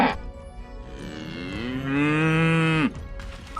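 A single cow moos loudly and close, a long rising, drawn-out bellow that holds steady before breaking off abruptly, with no one talking.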